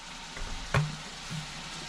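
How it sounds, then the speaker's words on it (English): Bacon fries in a pan while wild greens are being cooked, giving a steady, low sizzling hiss with one sharp pop partway through and no voices. "I'll get this bacon fried"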